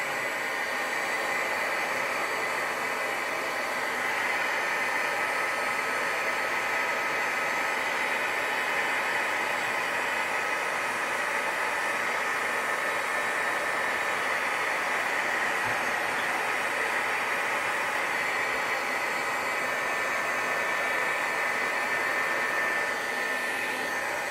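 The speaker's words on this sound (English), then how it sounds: "then we're going to hit these with the dry tool" A heat drying tool blows steadily on glittery shaker tags, a loud, unbroken whooshing roar that holds evenly for the whole stretch with no talking.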